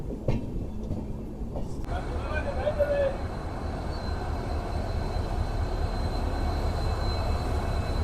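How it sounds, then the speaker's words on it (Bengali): The Kanchankanya Express rolls into Siliguri Junction with a continuous low rumble of wheels and carriages, close and steady throughout. "শিলিগুড়ি জংশন ঢুকে গেল আমাদের ট্রেন।"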